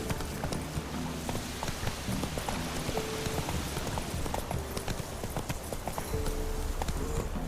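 Horse hooves clip-clop steadily in The Witcher 3, a quick even rhythm of close, distinct strikes over a busy outdoor game ambience with faint rain-like patter.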